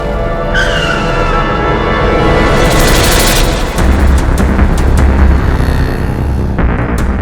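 A police vehicle brakes hard to a stop with a loud skid and a sharp tire squeal over a roaring engine and road noise, close and continuous, with no talking.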